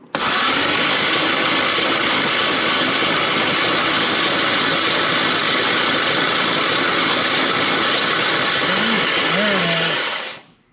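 A Camaro engine cranks with a loud, steady, close mechanical whirring roar that runs for about ten seconds and then cuts off abruptly.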